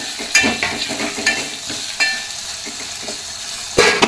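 Tomatoes and salt frying in a pan for a red gram dal curry, a steady close sizzle broken by several sharp stirring scrapes and clinks, with no talking.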